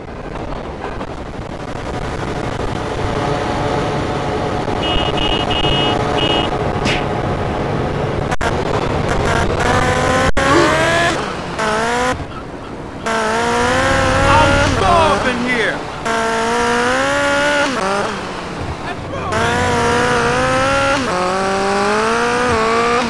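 Car engine revving in Grand Theft Auto Liberty City Stories, loud and continuous with rising and falling pitch sweeps, mixed with game sounds and possible gunfire bursts, while a voice talks over parts.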